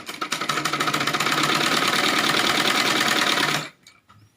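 A sewing machine stitches the seams of Rajputi lehenga panels, a fast close rhythmic clatter that starts with separate thumps, runs steadily at full speed for over three seconds, then stops abruptly.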